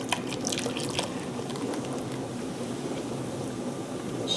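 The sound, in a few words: pouring beer into cottage pie filling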